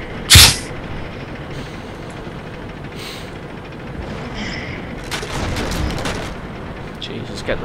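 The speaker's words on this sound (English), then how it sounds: "Artillery." A single sharp, loud artillery impact in a World of Tanks tank battle, followed by a steady low rumble and a few fainter distant thumps.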